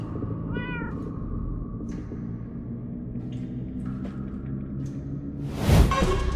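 Cats meow in Minecraft: Story Mode, one clear rising meow early, then fainter mews scattered over a low ambient hum, ending in a sudden whooshing swell; no talking.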